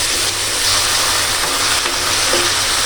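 Onions fry in a pan with ginger-garlic paste just added, giving a loud, steady, close sizzle that runs unbroken with no voices over it.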